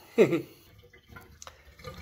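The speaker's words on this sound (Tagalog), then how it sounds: "Papalitan ko lang po yung tubig" Water from a cooking pot is poured out in a short splashing gush, followed by faint drips and trickles nearby in a quiet kitchen.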